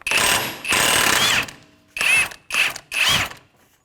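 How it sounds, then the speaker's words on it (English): An impact wrench with a 36 mm socket hammers off the rear axle nut on a 2007-2013 Acura MDX, five loud close rattling bursts separated by short pauses. "with a 36 millimeter socket on an impact, we're going to take that nut right off"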